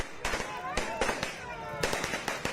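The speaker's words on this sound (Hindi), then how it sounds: "दिवाली से पहले ही आतिशबाजी शुरू हो गई।" Fireworks and firecrackers burst in a celebration outside a Patna party office, with repeated sharp cracks in irregular clusters over a crowd, voices talking and cheering under the bangs.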